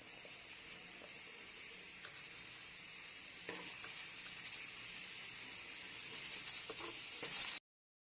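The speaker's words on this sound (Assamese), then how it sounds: "এয়া উতলি আছে।" Taro leaf curry cooked with tenga simmers in a pan, giving off a steady, close hiss with faint bubbling pops that holds for about seven seconds and then cuts off abruptly.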